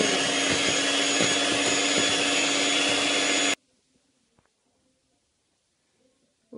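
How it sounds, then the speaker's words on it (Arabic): Electric mixer beating eggs and butter for a Kinder cake batter, a steady loud whirring drone lasting several seconds before cutting off abruptly, followed by near silence with a few faint knocks. "دابا غادي نضرب البيض وغادي ندير الزبدة"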